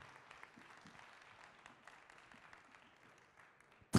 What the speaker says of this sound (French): un tonnerre d'applaudissements pour le raccompagner.